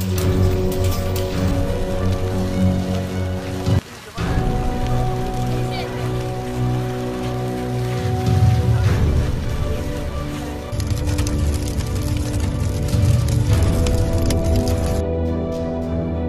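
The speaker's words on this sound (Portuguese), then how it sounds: "você já sabia dessa chuva de pedras negras que aconteceu recentemente?" Small black stones rain down in Italy, pattering and clattering densely on surfaces like a heavy downpour, with a brief break near the four-second mark and voices talking over parts of it.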